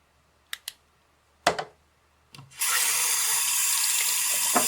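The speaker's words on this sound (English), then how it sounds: "Now I'm going to take you over to the sink, wash my hands just to show you that this does not wash off easily." Hands washed under a running sink tap, a steady close rush of water pouring for a couple of seconds after a few brief clicks and knocks of handling at the basin.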